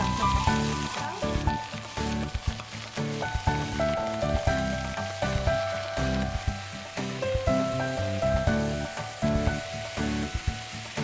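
Mutton pieces sizzling loudly in a hot pan, a dense crackling fry that runs continuously with irregular popping spatters and stirring clatter, close and alone.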